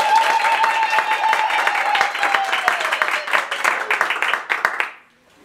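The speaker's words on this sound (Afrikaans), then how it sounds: "Kan ons harte aan de klap geven?" Audience at a family gathering for a wedding couple clapping and applauding steadily for several seconds, a dense crowd patter that thins into a few last claps and stops abruptly.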